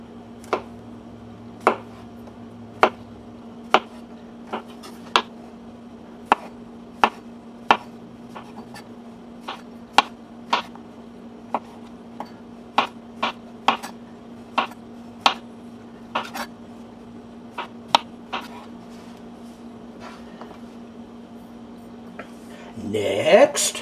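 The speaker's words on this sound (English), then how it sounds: "Now we cut up the veggies into bite-sized hunks." Vegetables for a chicken and broccoli stir fry are cut up into bite-sized pieces, with a steady run of sharp, distinct knife taps on a cutting board over a low background hum, and no talk.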